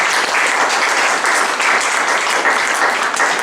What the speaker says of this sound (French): Est-ce qu'on va acclamer la parole de Dieu?